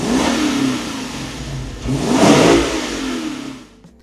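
Lexus ISF V8 with its stock factory exhaust revving, a steady engine drone swelling into a louder rev around the middle before easing off and dropping away at the end.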